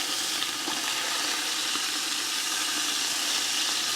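Birria meat sizzles on a Blackstone griddle as it is flipped, a constant dense hiss with faint crackles and no voices throughout.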